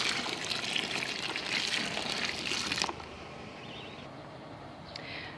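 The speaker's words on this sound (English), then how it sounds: "by adding the water from the previous bucket and adding some water from another bucket that I have" Water poured from a bucket into fermenting chick feed gushes steadily for about three seconds, loud and close, then stops and leaves only faint trickling and dripping.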